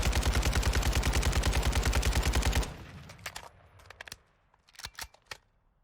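Cast-off 7.62 rifle from Modern Warfare 2 fires a fast, loud, even burst of automatic rounds for about two and a half seconds, then stops, leaving scattered faint clicks and a few sharp distant bangs.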